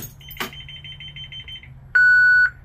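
A school bus Child Check-Mate system arming: a soft repeating beep pattern, then a loud sustained electronic tone lasting about half a second, up close inside the bus.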